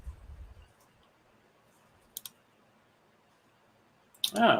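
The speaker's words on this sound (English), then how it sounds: "Clicking." Computer mouse clicks: a quiet double click about halfway through and a sharper burst near the end, with low room noise in between.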